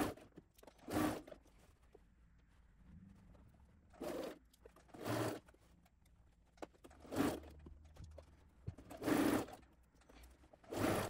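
Sewing machine stitching a stretched shirred back bodice panel of a child's bubble frock, five or six short separate bursts of a few seconds each, close and clear against a quiet room.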